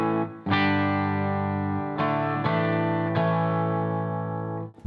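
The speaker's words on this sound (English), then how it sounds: "Let's begin by hearing my sound, clean sound first." A clean electric guitar rings out in sustained chords, struck several times with long, bright decays and no talking.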